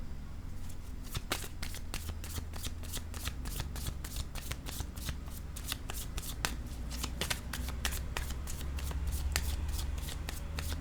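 Tarot cards being shuffled continuously, a dense run of crisp riffling and card-slap clicks that stays close and steady over a low background hum, with no talking.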